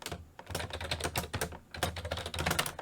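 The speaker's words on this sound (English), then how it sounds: "I type in again my password" A password being typed on a computer keyboard: quick, irregular bursts of light key clicks with short pauses between them, close and clear with no talk.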